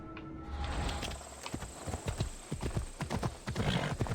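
Horse hooves clip-clop steadily in Assassin's Creed Odyssey, a close, evenly paced run of hoof strikes over a constant low game ambience, with no talking.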